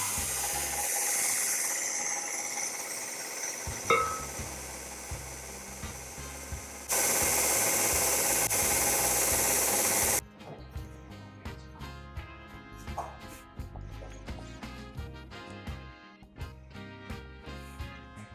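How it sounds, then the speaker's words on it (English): An electric mixer hums at low speed through cookie dough with chocolate and butter, a steady whirring with rubbing and scraping textures, a brief louder steady stretch, then lighter clattering mechanical noise; no talk. "I'm going to put the mixer on a low speed and then add the chocolate and butter"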